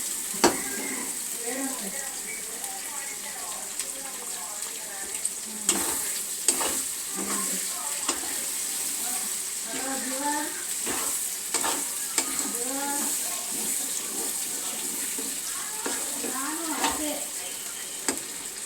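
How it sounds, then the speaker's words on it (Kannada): Eggs sizzling in a hot pan while being stirred and turned by hand, a steady frying hiss with repeated scraping clicks of the utensil, a voice speaking intermittently over it. "ಈ ಥರ ಚೆನ್ನಾಗಿ ಕೈಯಲ್ಲಿ ತಿರುಗಬೇಕು ಮೊಟ್ಟೆನ"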